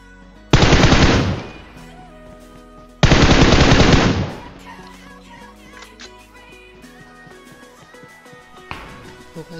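Two long bursts of rapid automatic gunfire from a mobile shooting video game, each lasting about a second and loud, followed by quieter game sounds and a few scattered clicks.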